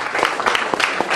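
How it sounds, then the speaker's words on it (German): Audience applause at a concert at KuFa Hildesheim, honoring the stand-in drummer Max: a brief burst of dense clapping from a crowd, steady and fairly loud throughout. "Deswegen bitte ich um einen großen Applaus von Max, für Max."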